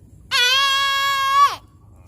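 Voice imitating an elephant: one loud, sustained trumpeting blast over a second long, held steady and then dropping off sharply at the end.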